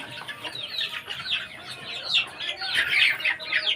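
Several chickens cluck and chatter at a poultry farm in a busy, overlapping stream, close by, with scattered higher chirps mixed in.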